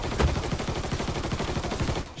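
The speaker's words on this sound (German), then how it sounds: "Ich schieße jetzt!" Rapid, steady automatic gunfire from a firefight in the game Mafia 3 rattles continuously and loudly for a couple of seconds before cutting off.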